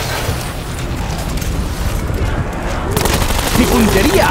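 Dense gunfire from the video game Call of Duty: Black Ops 4 rattles in rapid bursts and booms, with a voice speaking over the shooting.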